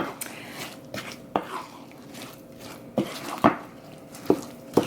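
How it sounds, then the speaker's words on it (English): Scattered clanks and knocks of dishes being dropped into a kitchen sink while baking a vegan apple cake, irregular and moderately close, over a quiet kitchen background. "You can hear me clanging around in the sink, throwing things in."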